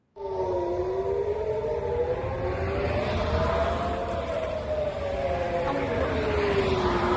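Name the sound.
air raid sirens during Iranian ballistic missile attack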